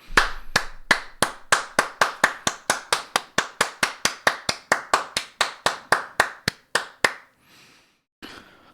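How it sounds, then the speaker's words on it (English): A single person claps alone in a room, about twenty-five sharp, evenly spaced claps at a steady rhythm, close and loud, ending abruptly with brief quiet rustling afterward. "just please clap and pretend like we're all clapping together"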